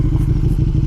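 A KTM Superduke 1290R is ridden along a potholed road, its engine giving a close, loud, throbbing low pulse with rapid rhythmic beats for about a second.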